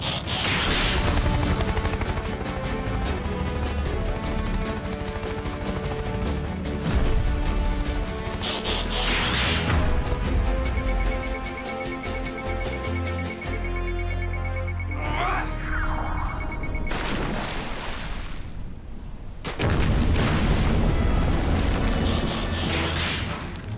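Animated cartoon explosion and crash effects from Transformers Rescue Bots, with loud booming bursts and mechanical clatter mixed with music and sound effects throughout.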